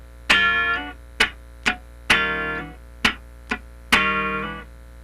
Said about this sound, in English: That's the basic slide.